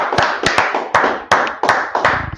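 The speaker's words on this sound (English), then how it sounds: "Clap it up." A few people in an online class clap close to the microphone in sharp, uneven claps with short gaps between them, ending in a quicker flurry.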